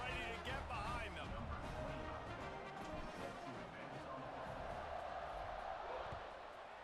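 Stadium crowd noise in the College Football 26 video game just before kickoff, a broad roar of cheering fans under a commentator's voice, fading slightly toward the end.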